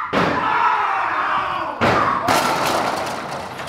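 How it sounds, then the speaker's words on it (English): A door slams hard with a loud broadband crash near the start, a second slam about 1.7 seconds later, and a noisy, echoing rumble that lingers and slowly fades after each impact. "Sorry, it's the door."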